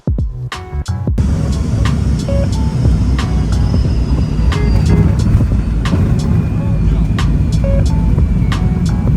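An MD-80 airliner's jet engines roar loudly and steadily inside the cabin during a short flight, a dense continuous drone with scattered rattles and clicks, while a voice speaks briefly at the start.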